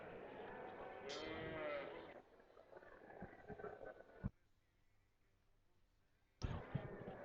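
Sheep bleat loudly and close at a junior sheep show, with long wavering calls in a ring holding a lamb flock of one ram and two ewes. A quieter stretch of crowd murmur follows before another sharp bleat.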